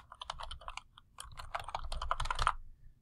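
Fingers type an assignment name on a computer keyboard in a quick, steady run of close, crisp key clicks lasting a few seconds, with a brief pause near the start and silence at the end.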